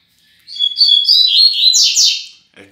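A male double-collared seedeater (coleiro), kept as a paired bird with a female, sings a loud, close, rapid high-pitched twittering phrase lasting about two seconds, followed by a faint short chirp.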